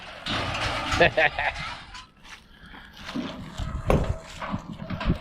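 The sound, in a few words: cows walking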